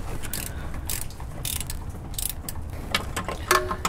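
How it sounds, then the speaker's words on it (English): A 14 mm gear wrench ratchets on a bolt during a Honda transmission mount replacement, giving repeated close mechanical clicking strokes in an irregular rhythm, with no speech. "Right there you can see I have a 14 millimeter gear wrench on the bolt."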